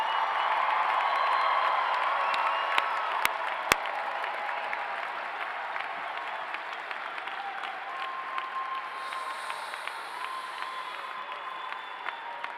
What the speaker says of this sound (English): How about a big round of applause for all of our graduates today?